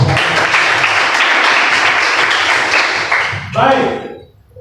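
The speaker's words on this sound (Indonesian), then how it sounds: "tepuk tangan dong untuk teman saya itu" A room full of people applauding loudly and steadily, fading out toward the end with some voices and knocks.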